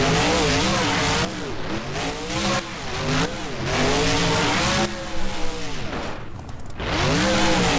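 A monster truck in BeamNG revs hard and spins around on a dirt arena floor, with its engine wailing up and down and its tires scrubbing loudly in repeated surges, close and continuous.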